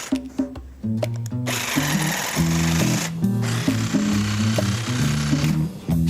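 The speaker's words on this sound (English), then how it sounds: "So he turns to his jigsaw." A jigsaw cuts a hole in a toilet seat, its buzzing coming in short, irregular bursts that start and stop over a busy background.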